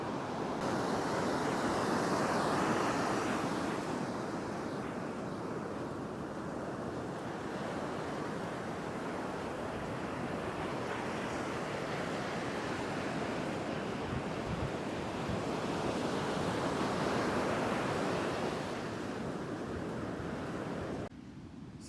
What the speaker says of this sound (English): the waves are a little bit sort of loud